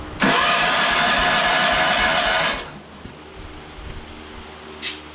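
A 1990 John Deere 318 lawn tractor engine cranks during a compression test, a loud, even whirring churn lasting about two seconds that cuts off abruptly, leaving a quiet background with a faint click near the end.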